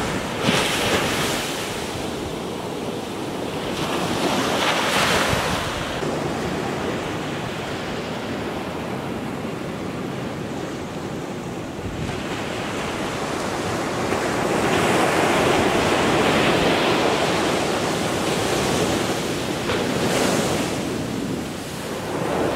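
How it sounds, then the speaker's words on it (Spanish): Ocean surf rolls onto the beach at Mazunte, Oaxaca, a steady loud wash of breaking waves with swelling peaks and wind buffeting the microphone, no voices. "el mar aquí es impresionante"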